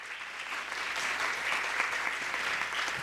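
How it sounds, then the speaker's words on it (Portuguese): Audience clapping at a lecture series event, a steady, moderately loud wash of many hands throughout with no pauses. "Por favor, uma salva de palmas para a Fátima."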